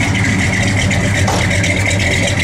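A 1969 Dodge Dart Swinger engine idles at a steady, low rumble with a constant hum. The sound is close and even, with no voices.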